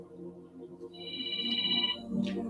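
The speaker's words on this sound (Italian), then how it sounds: "Andiamo a rispondere alla prima telefonata" A telephone rings with an incoming call, giving one short electronic ringtone burst of about a second over a quiet low background, fairly faint.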